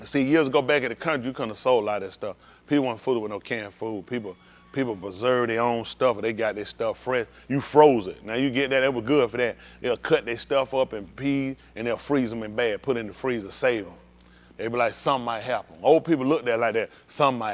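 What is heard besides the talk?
No everyday noise stands out behind the speech.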